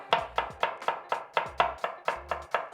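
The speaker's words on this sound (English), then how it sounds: "now we peel the onions and we're just going to slice them nice and rough" Peeled onions being roughly sliced with a kitchen knife, about ten quick, evenly spaced chops on a cutting board, close and crisp with no talking.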